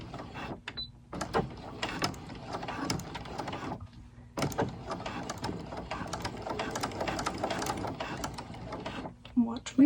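A home sewing machine fitted with a walking foot stitches stretchy fabric, its whirring motor running in bursts of several seconds separated by short pauses, close and clear.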